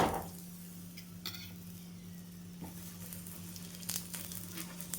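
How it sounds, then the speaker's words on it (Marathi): Dhapate, a mixed-flour flatbread, roasting with oil on a pan: a soft, steady low sizzle with a faint hum and occasional light taps and crackles, quiet and close. "आता आपल्याला थोडं तेल लावून घ्यायचं आणि छान शेकून घ्यायचं खरपूस"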